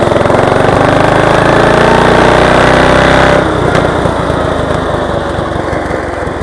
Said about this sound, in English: I assure you it is too damn fast for this mower to go